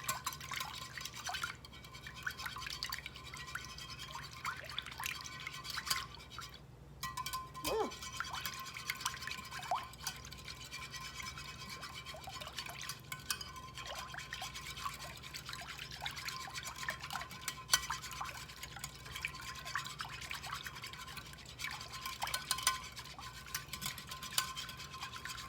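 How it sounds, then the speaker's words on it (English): Milk and two eggs are whisked together in a bowl, a fast steady scraping and faint liquid sloshing that runs continuously at low volume throughout. "you're going to add 2 cups of milk. And then to that, you're going to add your 2 eggs. And then we're just going to give that a good whisk"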